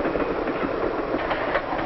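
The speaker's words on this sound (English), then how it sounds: "sometimes the train goes through the mountain itself" A train runs on its tracks with a steady, dense rumbling clatter that stays constant through the short stretch, with no voices.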